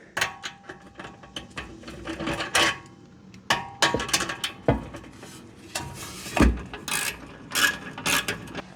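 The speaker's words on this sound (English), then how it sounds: "I'm gonna tighten the clamp." Ratchet tightening an exhaust clamp on a 1966 Ford Mustang during a Flowmaster dual exhaust install: bursts of quick metallic clicking in irregular runs, separated by short pauses and light clanks, fairly quiet and close.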